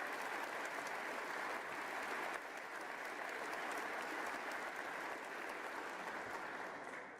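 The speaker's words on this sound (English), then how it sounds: "please give them a round of applause" Steady, sustained applause from a large audience at a State of the State address, with a dense, even wash of clapping that holds throughout and tails off slightly at the end.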